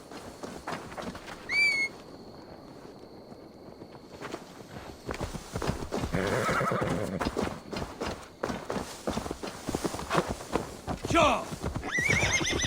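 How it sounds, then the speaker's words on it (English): Horse whinnies and clip-clopping hooves in the video game Assassin's Creed Valhalla, with a short neigh early on and then steady hoofbeats on the move, a few further whinnies near the end and some talk mixed in. "Now to deliver Magni his horse."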